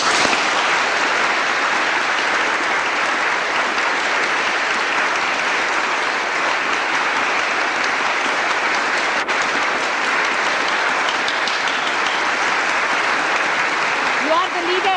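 Sustained applause from a large audience at a Sahaja Yoga morning meditation program, a steady dense wash of clapping held evenly at full strength throughout, filling the hall with no break.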